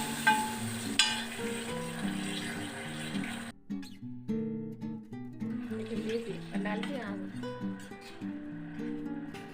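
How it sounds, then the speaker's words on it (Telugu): Hot tempering of mustard seeds in oil poured into mango dal, a brief sharp sizzle with crackling, then softer bubbling and stirring under a steady background of music. "తాలింపు వేస్తే ఈ సౌండ్ మాత్రం ఖచ్చితంగా రావాలండి"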